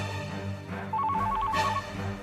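A phone rings with an incoming call, a steady repeating electronic trill sounding clearly over a low room hum.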